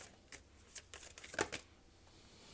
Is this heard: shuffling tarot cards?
yes